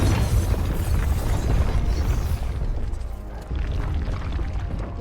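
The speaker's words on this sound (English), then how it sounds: "It's an exploding death." A loud, rumbling explosion from Final Fantasy XVI fills the scene with dense low booms and crashing debris, then the roar eases off slightly and carries on steadily.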